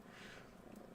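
A cat purrs close by in a soft, steady low rumble, brief and quiet, with no voices over it.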